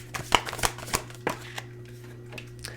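Tarot cards drawn from a deck and handled at close range: a quick run of crisp snaps and flicks that fades into a few softer, sparser taps, with a steady low hum beneath and no voices.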